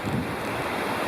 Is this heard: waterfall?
yes